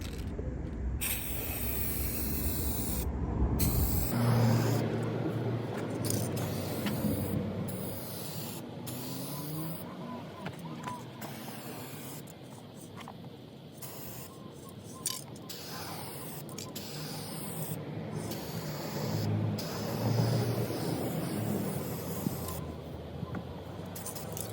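Aerosol spray can paint hissing in long, steady bursts as a heavy coat goes onto a car rust-hole repair, close and continuous with brief pauses between passes.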